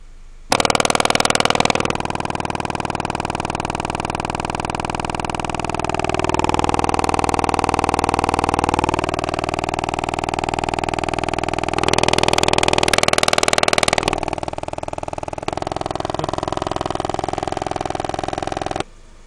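An old woofer speaker plays a sweep of test tones, loud sustained hums that shift in pitch over time with distorted buzzy bursts, heard alone without any voices.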